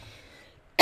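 A single sharp cough from a tarot reader, loud and close, bursting out at the end after a stretch of near silence.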